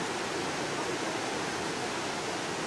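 Spring water from Mount Hermon flowing toward the Jordan, a dense, steady rushing hiss like a small waterfall or fast stream, close and continuous with no voices.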